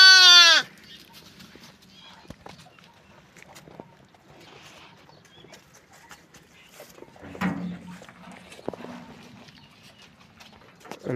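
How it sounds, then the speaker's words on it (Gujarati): A female lamb gives one loud, close bleat at the very start, followed by quiet pen sounds, faint shuffling and a few soft thumps. "તો આ છે ઘેટાનું બચ્ચું,"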